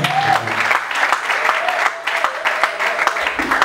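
Church congregation applauding in praise of the Lord, a steady, dense wash of many hands clapping close by, loud and continuous throughout with no pauses.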